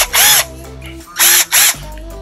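A Matco 1/4 drive cordless impact wrench whirs loudly up close in three short bursts, one longer run followed by two quick pulses, over a steady background hum.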